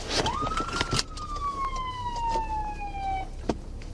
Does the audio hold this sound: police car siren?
yes